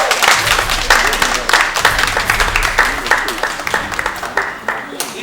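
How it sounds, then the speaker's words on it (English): A round of applause breaks out at a gathering in a Nigerian Igbo drama scene, loud clapping with distinct individual claps mixed with crowd noise and voices underneath. "This is a round of applause."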